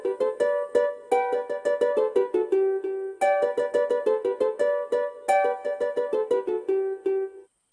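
A song melody from Little Einsteins, played as a clear run of plucked or struck notes in repeating phrases, loud and close, with no voices.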